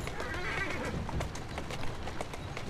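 A horse neighs and whinnies over steady hoof clip-clops, fairly close and clear, in the video game Assassin's Creed Syndicate.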